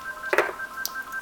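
A landline telephone gives a short electronic beep followed by a brief higher chirp, faint and close in a quiet room over a steady tonal hum.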